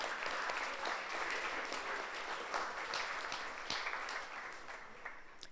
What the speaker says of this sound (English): And I think we need to give him applause.